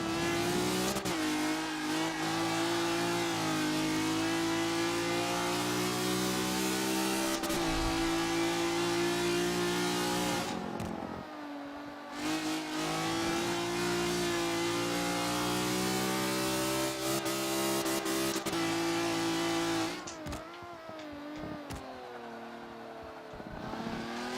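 Car engine in a racing video game, revving hard and dropping through downshifts before climbing again in repeated surges, steady and close with brief dips between gears and no talk.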